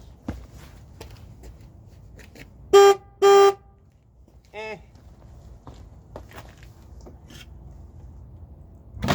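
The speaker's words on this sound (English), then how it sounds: "we're just gonna test the horns" A vehicle horn being tested gives two short loud honks close together, then a fainter tone a moment later, with shuffling, footsteps and handling noise around them.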